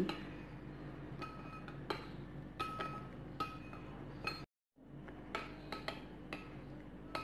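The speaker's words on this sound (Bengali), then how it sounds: "সব কিছু মিশিয়ে নিচ্ছি" A spoon clinks against a bowl while sugar and salt are stirred into a chilli chicken sauce, a series of faint, close, irregular metallic taps with a short break partway through.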